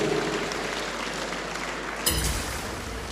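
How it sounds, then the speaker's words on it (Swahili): A crowd at a furniture store opening ceremony in Nyeri claps steadily in sustained, dense applause that fills the whole stretch at an even level. "Tumpigie makofi mazuri."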